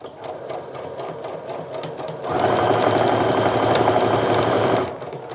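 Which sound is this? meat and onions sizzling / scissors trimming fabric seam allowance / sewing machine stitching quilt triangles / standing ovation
sewing machine stitching quilt triangles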